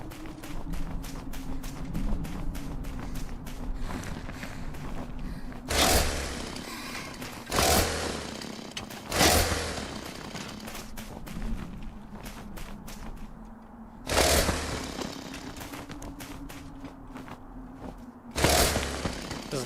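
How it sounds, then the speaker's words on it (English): A chainsaw in Motorslice whines steadily while striking objects, with about six loud, heavy impacts spread irregularly across the stretch, over quick rhythmic tapping and no talk. "but you're just hitting them with your chainsaw"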